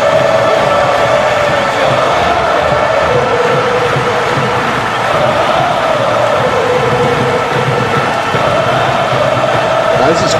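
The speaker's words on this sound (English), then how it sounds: "listen to this crowd here showering the Cypher again in that praise" A wrestling crowd at an MPWF event roars in a steady, loud ovation for the Cypher, with dense cheering that fills the whole stretch and barely dips.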